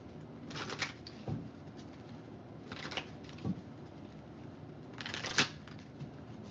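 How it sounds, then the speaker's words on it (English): A deck of tarot cards being shuffled by hand, heard as three short, crisp riffling bursts separated by quieter pauses, close and fairly soft. "Why can't I shuffle this deck?"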